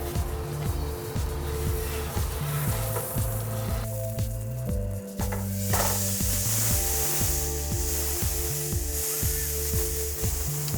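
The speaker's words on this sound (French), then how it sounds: "on va déglacer notre poêle pour déglacer les sucres et aller chercher le maximum de saveur" Butter sizzles hard in a frying pan as liquid is poured in to deglaze it, with a loud hiss that surges midway, over a low rhythmic tonal pattern.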